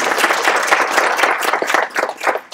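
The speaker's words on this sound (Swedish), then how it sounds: "Jag tycker de är värda en applåd." Steady applause from a seminar audience in Falköping, Sweden, dense clapping that holds throughout at full strength before thinning slightly near the end.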